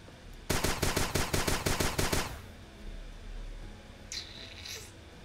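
Rapid automatic bursts from a frost assault rifle in Starbound, about a dozen sharp, evenly spaced shots rattling off loudly for two seconds, then a quieter pause and a brief high shimmering tone near the end.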